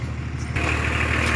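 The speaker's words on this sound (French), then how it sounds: "Petit moteur 6 cylindres" Six-cylinder engine of a BMW 325 tds running close by, a steady low rumble that rises in level halfway through.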